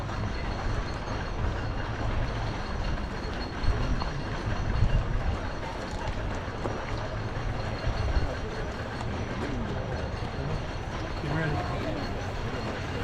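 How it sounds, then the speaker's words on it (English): A roller coaster train rumbles through the Beast's double helix at Kings Island, a steady low roar and clatter heard from inside the structure, rising and swelling slightly as it passes. "I can hear a train coming right now,"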